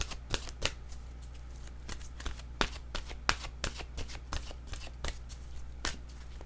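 Oracle cards shuffled by hand at close range, a string of sharp riffling snaps and soft slaps at an irregular pace, no voices.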